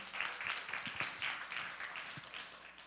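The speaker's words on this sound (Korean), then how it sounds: "박수 한번 쳐주세요" Applause from a church worship congregation, a steady patter of many hands clapping together, moderately loud and continuous for a few seconds.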